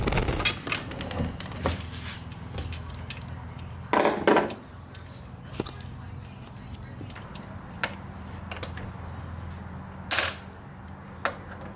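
Cutters snipping the wire off a trolling motor handle, heard as a handful of sharp, close clicks and snaps scattered over a quiet background.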